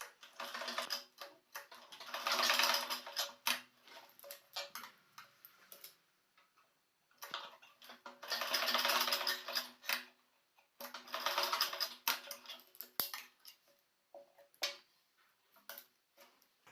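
Sewing machine stitching a small pajama, fabric hemmed with a half-inch seam; rapid steady ticking runs in bursts of several seconds with short pauses between, close and fairly quiet, with no talking.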